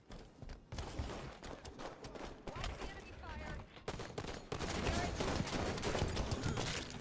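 Rapid automatic gunfire in a Halo 5 Slayer match, dense overlapping bursts from several weapons, loud and close, building into a sustained heavy fusillade toward the end, with faint talk underneath.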